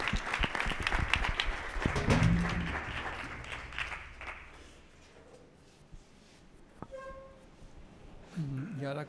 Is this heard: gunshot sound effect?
no